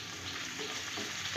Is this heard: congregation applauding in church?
no